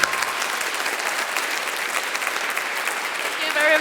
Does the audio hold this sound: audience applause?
yes